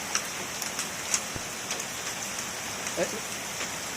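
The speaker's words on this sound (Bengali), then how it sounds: "এদিন বৃষ্টি হচ্ছে আর এদিন কেমন পাথর পড়ছে" Steady rain patters on a surface during a severe storm, with scattered sharper ticks of hailstones landing now and then.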